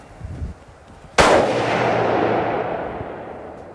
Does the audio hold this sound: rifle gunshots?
yes